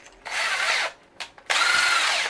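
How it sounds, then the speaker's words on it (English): Power drill boring quarter-inch holes in a metal ammo box, with two close, loud bursts of high whining grind separated by a short pause and a few small clicks. "I'm gonna go ahead and drill out my quarter inch holes"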